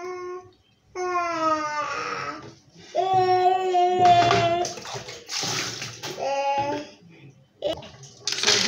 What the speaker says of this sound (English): So I'm going to wash my rice